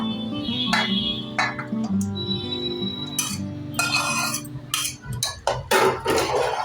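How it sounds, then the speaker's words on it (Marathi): Vegetables are added to a pan and stirred for a dhaba-style Veg Kolhapuri, with close metallic clinks and scrapes of a spoon against cookware coming in irregular clusters, without talk. "आता आपण करूया त्यात भाज्या भाज्या घालून घेऊया"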